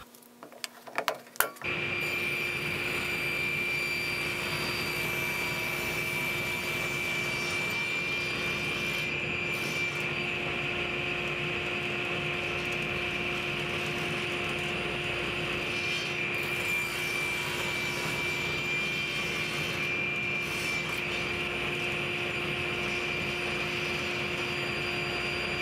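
Power saw cutting a lip slot into a wooden musky bait clamped over the blade, a steady loud whining drone that runs continuously for the whole stretch after a brief start-up.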